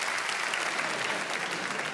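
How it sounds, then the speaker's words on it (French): A circus show audience claps steadily and loudly, a continuous wash of applause with no voices standing out. "On l'applaudit très fort"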